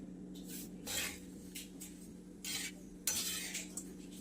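Sesame seeds and peanuts roasting in a pan on a gas stove, stirred with a utensil that gives soft scraping, rattling strokes at irregular intervals over a low steady hum, fairly quiet and close.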